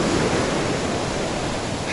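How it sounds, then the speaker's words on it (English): Ocean surf at Baker Beach in San Francisco, a steady broadband wash of breaking waves with wind rumble, continuous and fairly loud, no voices. "Pretty good waves."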